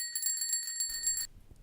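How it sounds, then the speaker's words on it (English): A bicycle bell rings rapidly and continuously for about a second, bright and close, then cuts off into low background rumble. "always put a bell on your bike, and preferably a working one."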